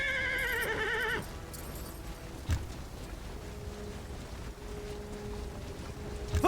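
A horse whinnies briefly at the start in a Warhammer: Mark of Chaos battle, followed by a steady low rumble with faint hoof and clatter sounds under a thin sustained tone and no talking.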